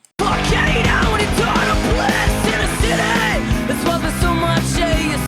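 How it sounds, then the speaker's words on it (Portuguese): A full band plays a loud, dense rock song with drums, guitars and vocals all together, continuous from start to finish. "a música com todas elas soa assim"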